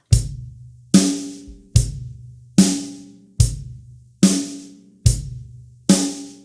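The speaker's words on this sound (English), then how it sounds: "So the quarter notes with the kick drum and the snare drum will sound like this." On an acoustic drum kit, kick drum and hi-hat strike together on every quarter note, with snare hits joining. Eight evenly spaced, crisp hits ring out alone at a moderate tempo, each decaying before the next.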